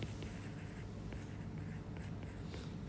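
Chalk or marker writing by hand on a board during a mechanics of materials lecture, a steady faint scratching that runs the whole time, fairly distant and mixed with room noise.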